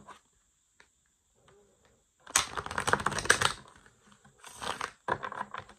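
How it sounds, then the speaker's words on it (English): Tarot cards are shuffled up close in a quiet room: a long riffling burst of snapping card edges, then two shorter quick riffles after a brief pause. "One more shuffle for Aries."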